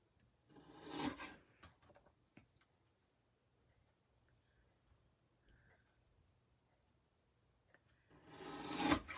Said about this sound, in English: I'll just trim this back.